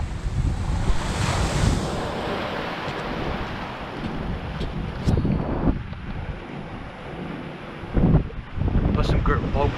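Strong gusting coastal wind at Lilstock buffets the microphone with loud, continuous low roaring and surges, mixed with surf wash, swelling sharply in a big gust near the end.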